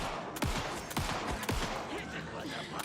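Repeated gunshots in the horror video game Alan Wake 2, several sharp loud reports in quick succession over a dense, noisy game soundscape.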